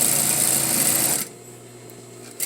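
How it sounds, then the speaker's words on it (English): Sewing machine stitching a half-inch side seam on a garment with a folded dart, a steady loud whirring run that stops abruptly midway, leaving quiet room tone with a small bump at the end. "we're going to continue sewing a 1/2 inch seam"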